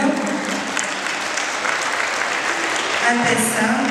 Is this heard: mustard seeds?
no